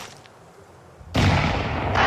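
A flashbang grenade detonating in Counter-Strike 2, a sudden loud burst after a quiet second that rings out as a sustained bright blast of noise to the end.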